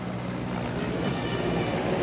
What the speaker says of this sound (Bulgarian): Хеликоптера Ми-17 точно в този момент прилита над столицата с българския национален флаг.